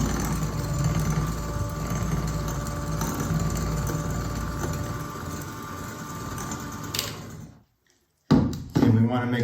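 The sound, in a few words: hand mixer beating brownie batter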